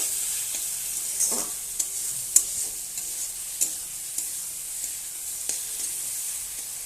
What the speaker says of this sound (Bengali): ভালোভাবে একটু আমি নেড়ে নেব।